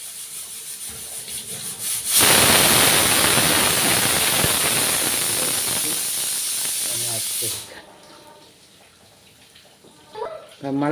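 A pressure cooker whistle blasts while pumpkin curry cooks, a loud sustained hissing shriek of escaping steam lasting several seconds before cutting off abruptly, followed by quieter kitchen clatter.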